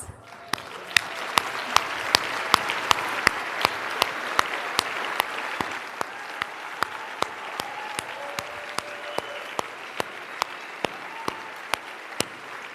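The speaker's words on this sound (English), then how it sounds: "please stand to receive a warm round of applause" Gala guests give a round of applause for the staff at a black-and-white ball and business awards, a warm, sustained clapping with sharp periodic clicks cutting through.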